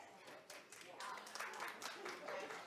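Scattered clapping from a studio audience at a TV talk show, moderate and uneven, rising somewhat toward the end, mixed with background voices.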